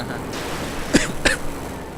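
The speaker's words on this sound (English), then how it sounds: "Good old cough" Two short coughs in quick succession, close and clear over a low background hum.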